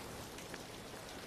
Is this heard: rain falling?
yes